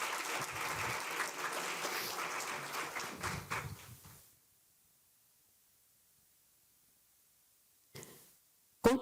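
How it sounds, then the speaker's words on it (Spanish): Applause from an audience at a Spanish-language event on infrastructure and resources, a moderate wash of clapping for about four seconds that fades out into near silence, followed by a couple of brief bumps. "Un fuerte aplauso para Yolisa Cruz, que nos acompaña en esta tarde."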